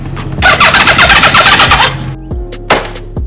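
A wrecked Yamaha R1 sport motorcycle fails to start: the starter cranks loudly and rapidly for about one and a half seconds, then cuts out, followed by two short, sharp bursts of cranking, close by.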